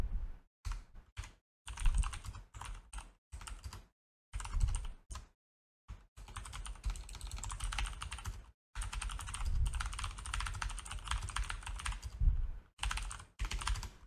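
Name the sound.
typing on a computer keyboard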